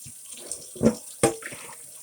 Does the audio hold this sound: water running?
yes